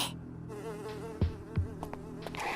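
A big dung fly buzzes in the cartoon Tobot, a continuous close whining drone that runs throughout, broken by a couple of soft thumps and clicks.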